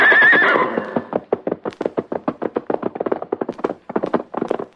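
A horse in an old 1938 radio drama lets out a loud whinny, then its hooves clatter in a fast, even galloping rhythm that runs on steadily to the end.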